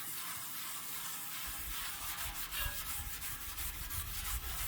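A copper or brass item is scrubbed clean by hand, with steady close-up rubbing strokes that give a continuous, fairly quiet abrasive hiss and no talk.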